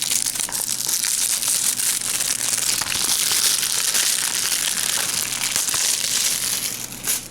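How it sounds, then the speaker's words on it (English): Plastic shrink wrap crackles and crinkles continuously as it is peeled off an anime disc case, a dense, close, steady rustle lasting several seconds with no talking. "Let's get this plastic off first."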